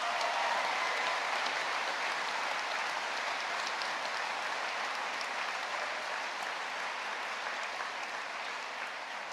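Sustained applause fills a graduation ceremony hall as the crowd cheers mature graduates, a dense, steady clapping from a large audience that holds evenly throughout.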